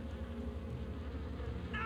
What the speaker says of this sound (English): is there a way to get rid of these bees?